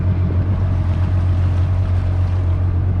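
A Kawasaki Ultra 310LX jet ski takes off on open water, its engine a steady, loud drone with a strong low hum, rushing water and wind noise throughout.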